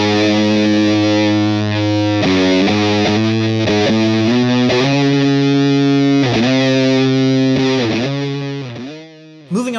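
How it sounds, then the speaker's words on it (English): Electric guitar driven through a Big Muff fuzz pedal, thick distorted sustained chords and bends ringing loudly with heavy harmonics, then cutting off near the end. "It's hard to differentiate the sound of interference with all the crazy artifacts of a big muff"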